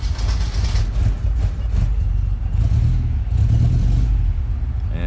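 1979 Alfa Romeo Alfetta 2.0 with carburettors, its engine turning and catching, a loud continuous rough rumble with clattering bursts that swells and settles over a few seconds.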